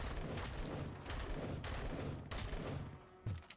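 Sniper rifle fire in the RoboCop: Rogue City video game: loud, close shots in quick succession with broad blasts and decaying tails, heard with no talking.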